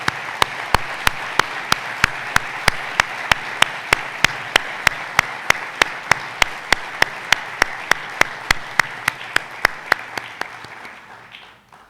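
An audience claps in steady, rhythmic unison throughout, with loud regular beats over a dense wash of applause that fades out at the end.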